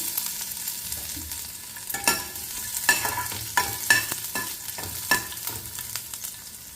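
Chopped garlic sizzles in hot oil in a pan, with a steady frying hiss broken by several clanks and scrapes of stirring.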